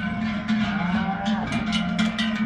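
Several cows low and moo close by as they come off a truck for transhumance at Limonetto, Valle Vermenagna, Italy, overlapping calls over a steady busy background, with no talk.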